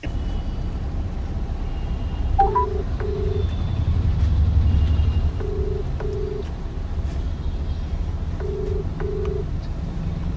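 An outgoing phone call rings on the line with a repeating double-beep ringback tone, three pairs about three seconds apart, heard fairly faintly over a steady low background hum.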